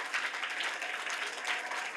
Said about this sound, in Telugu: మీ స్కూల్కి, మీ టీచర్స్కి గట్టిగా చప్పట్లు కొడదాం